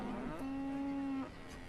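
A cow in the city-building video game Banished lets out one long, clear moo lasting about a second, with a shorter low call just before it and quiet ambience after.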